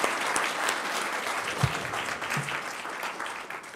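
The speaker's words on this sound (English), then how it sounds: "one round of applause one more time" A congregation at a memorial celebration of life claps steadily in a brief, fairly loud round of applause, with a couple of low thumps partway through and no voices over it.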